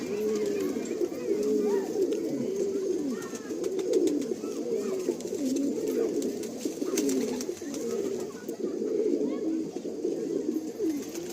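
Andhra Kalanka pigeons cooing close by in a loft after dark, a steady run of soft, overlapping throaty coos and burbles with a few faint clicks in the background.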